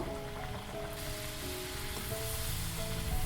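Lunchbox snack dough dropped into hot oil and frying over a medium flame, giving a steady, crackling sizzle like light rain that continues throughout and swells slightly near the end.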